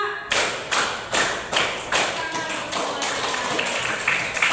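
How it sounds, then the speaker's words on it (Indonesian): A classroom group claps a five-beat spirit pattern in unison, each beat a sharp, loud, evenly spaced clap, the last beats running into a busier spread of clapping. "Tepuk 1, tepuk 2, tepuk 3, tepuk 4, tepuk 5."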